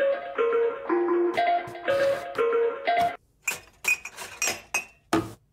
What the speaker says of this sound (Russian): это просто кружка, которая стучит о другую кружку, либо о столовые приборы в сушилке